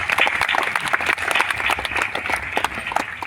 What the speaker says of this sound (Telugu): నమ్మే వాళ్ళందరూ కూడా గట్టిగా చప్పట్లు కొట్టండి.